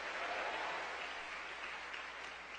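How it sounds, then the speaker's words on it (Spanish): Steady applause from a congregation at an evangelical church service, dense and sustained clapping filling the space for a few seconds without any voices. "dale el aplauso al Señor"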